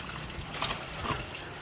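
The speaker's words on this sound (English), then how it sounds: "Look at the skill and artistry of getting that water right smack into that small container." Water is poured into a small container, giving a soft, steady trickle and splash under a muffled background.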